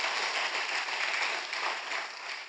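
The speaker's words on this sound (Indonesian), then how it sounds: "Tepuk tangan yuk. Sekali lagi yang paling meriah buat Tuhan kita." A church congregation applauds, a steady dense wash of many hands clapping at moderate distance, fairly faint and even, tapering slightly toward the end.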